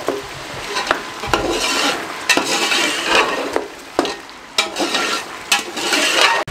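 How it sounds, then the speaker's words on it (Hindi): Beef trotters frying in a pan over a medium flame, sizzling steadily while a spoon stirs and scrapes them with sharp, irregular clacks against the pot, close and fairly loud. "इसको अच्छे तरीके से भुनाई कर लें मीडियम फ्लेम पे 5 मिनट तक"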